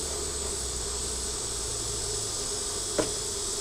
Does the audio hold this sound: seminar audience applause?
no